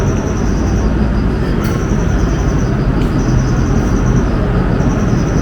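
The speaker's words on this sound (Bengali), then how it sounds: "এটা সেই মেট্রোটা যেটা করে আমরা আসলাম।" A Kyoto metro train rumbles loud and close in a steady, unbroken roar, with faint high whines and a few soft clanks running along the rails.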